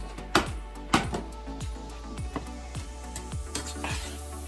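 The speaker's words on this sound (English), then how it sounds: "we're just gonna add the chicken in here, fry it up" Chicken frying in a pan with a steady hiss, punctuated by sharp clinks and scrapes of a utensil against the pan.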